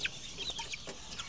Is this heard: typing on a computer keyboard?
no